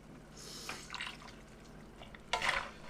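Rinse water poured from a coconut milk can into a pot of crab stew, a couple of soft close splashing pours with quiet gaps between, the last one louder.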